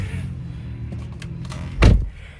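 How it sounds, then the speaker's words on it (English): A 2025 Mercedes-AMG CLA 45 car door shuts with a single solid, close thump near the end, following a quiet interior stretch. "Door sounds nice and solid."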